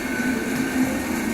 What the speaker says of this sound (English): this over here is still very much an active rail line, as you can see by the now 3 trains that are in this shot